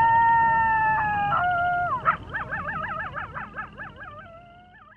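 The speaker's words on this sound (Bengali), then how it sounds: "মাঝে মাঝে দুই একটা কুকুরের আর্তনাদ শোনা যাচ্ছে" Stray dogs sheltering on a rain-soaked railway platform at night howl in long, wavering wails, one voice overlapping another and trailing off, fairly near and alone over a low background murmur.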